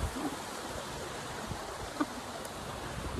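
Outdoor waterfall on a hiking trail in cool weather, giving a steady broadband rush of falling water that holds an even level throughout, with a faint splash or knock around the middle.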